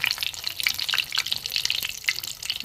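Stuffed ash gourd chops fry in hot oil, giving a steady crackling sizzle with bright spitting pops throughout and no talking.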